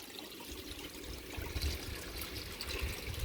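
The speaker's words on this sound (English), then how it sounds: "I'll just open this valve here and flush it all out" Water gushes out through an opened drain valve on a backyard koi quarantine tank, a steady splashing flush that swells louder partway through.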